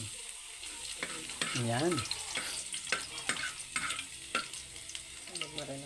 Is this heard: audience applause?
no